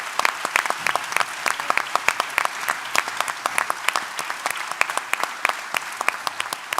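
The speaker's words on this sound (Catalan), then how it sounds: "Doncs aquí hem d'aplaudir això." Audience applause at a Catalan talk event, a steady wash of dense clapping from a crowd that carries on at even strength from start to finish with no voices over it.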